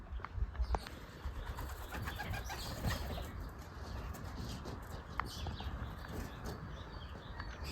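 Young racing pigeons perched on a rooftop give soft, intermittent coos from a short distance, set against a steady outdoor background hum with a few brief louder bursts.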